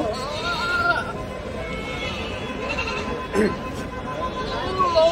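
Ram or goat bleating at a male goat livestock market, several wavering calls close by over a constant background of crowd talk and people speaking.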